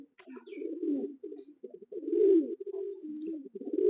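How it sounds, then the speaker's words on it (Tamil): A male pigeon coos close by, its low, throaty rolling calls repeating in uneven bursts with short pauses between them, heard alone without talk. "இங்கே ஒரு மேல் குமுறுது"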